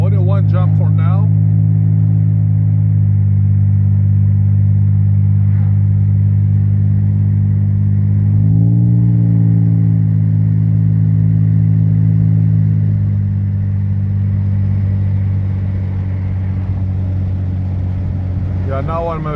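Steady, loud engine drone from an Infiniti G35 with a P1716 speed sensor fault, heard from inside while driving at speed, with a brief pitch rise midway as it shifts and pulls, then settling back to an even hum.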